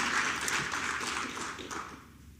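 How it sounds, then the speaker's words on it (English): An audience at an economic development summit applauds city staff and assistant city managers. The clapping is moderately quiet and sustained, then thins out and fades toward the end. "Again, an applause for them."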